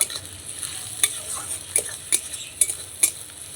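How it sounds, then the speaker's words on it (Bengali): Garlic paste and onion sizzle in a pan, stirred with a utensil that scrapes and taps the metal in a rhythmic series of bright strokes over the steady frying hiss. "রসুনটাকেও পেঁয়াজের সঙ্গে ভালোভাবে ভেজে নেব"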